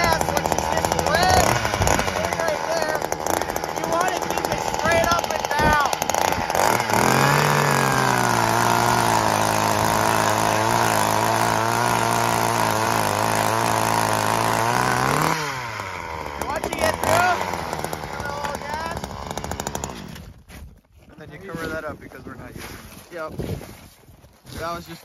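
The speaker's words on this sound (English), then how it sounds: "That's how you drill a hole." A small gas-powered ice auger engine revs hard with a steady droning whine for several seconds while drilling a hole in ice, then cuts back, with wind buffeting and voices talking around it.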